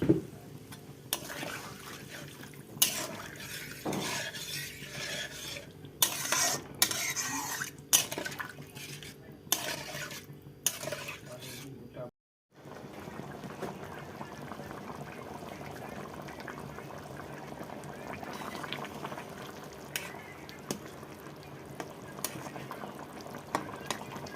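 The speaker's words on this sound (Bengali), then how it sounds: "জল দিয়ে দিচ্ছি" Water poured into a pot of potatoes on the stove for a Bengali dish, with a soft bubbling simmer under scattered clinks and scrapes of utensils against the pot, followed by a short silence and then steady quiet boiling.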